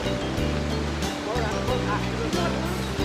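Roadside waterfall in Xaysomboun, Laos, a steady broadband roar of rushing water filling the scene, with a faint low engine-like hum and voices talking over it.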